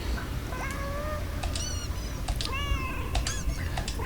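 Cats in the video game Schrodinger's Cat Burglar meow repeatedly, several short rising and falling cries over a steady low background hum.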